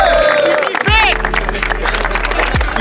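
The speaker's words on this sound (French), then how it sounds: "on applaudit Unites quand même les gars" Prison inmates, guards and visitors at a Fresnes prison sports event clapping and cheering, a dense loud crowd noise running throughout with a voice calling out over it.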